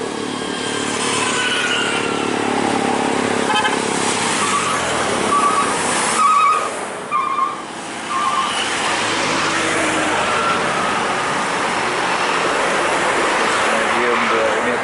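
A medium-size bus drives past on a sloping roadside bend, its engine a steady loud roar with a short burst of horn-like tones midway before the drone settles again.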